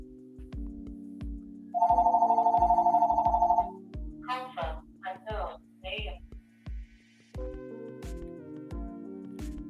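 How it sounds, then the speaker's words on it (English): A telephone rings with a steady electronic trill lasting about two seconds, followed by a few shorter chirping tones over a low mains hum and scattered knocks. "There we go with the phone again"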